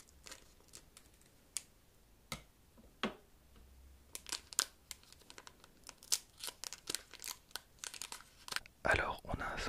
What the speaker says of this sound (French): On va ouvrir le deuxième booster, donc le Kamehameha familial.